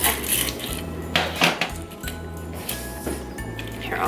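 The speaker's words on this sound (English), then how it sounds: "So now you're gonna mix as you add your sugar mixture." A spoon or whisk clanks and scrapes against a bowl while a sugar mixture for homemade whole-food marshmallows is mixed, making a busy run of close metallic knocks and clinks with no voices.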